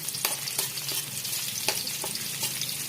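Chopped onion and garlic sizzle and fry in hot oil in a pan while a spatula stirs and scrapes now and then, a steady close hiss with no voices.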